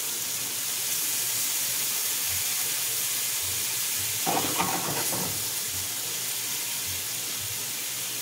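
Chicken broth goes into a hot stir-fry pan of tilapia and vegetables, setting off a steady, loud hiss of sizzling steam with a brief burst of louder bubbling midway.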